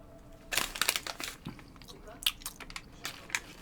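A rose-flavoured candy is crunched between the teeth, giving close, crisp cracking bites in irregular bursts over soft background hiss.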